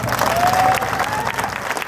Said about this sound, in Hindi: मैं चाहूंगा कि बहनों के सम्मान एक बार जोरदार तालियों का हाथ।